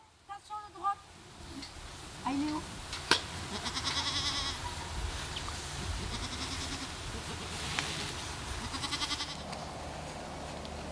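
Goats bleat on a farm during a milking visit, short cries rising now and then under steady nearby talk, with a busy barnyard background throughout.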